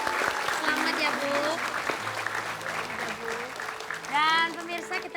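Clapping from a studio audience on an Indonesian TV game show, rising around a contestant named Ibu Dahlia, with a host talking and music playing underneath.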